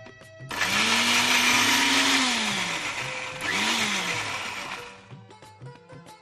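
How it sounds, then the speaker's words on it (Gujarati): A kitchen blender crushes a spinach gravy base with curd and cumin, running loud and steady in two bursts with a brief dip between, then winding down to quiet clatter. "અને હવે આને આપણે ક્રશ કરી લઈએ."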